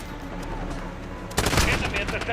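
A Rytec rifle in Call of Duty: Modern Warfare fires on the Shoot House map: a sharp, loud burst of gunfire cuts in after a stretch of steady game background noise, with a voice talking faintly underneath.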